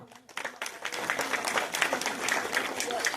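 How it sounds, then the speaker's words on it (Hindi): A crowd at an election campaign event claps enthusiastically, dense steady applause that carries on for a few seconds. "तो उनके लिए एक बार जोरदार तालियां"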